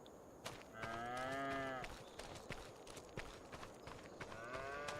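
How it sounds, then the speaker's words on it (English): Cows in the farming video game Farming Simulator 25 moo in two long, drawn-out calls, the first loud and near, the second quieter, over scattered clopping steps and light background clatter. "Got some cows here."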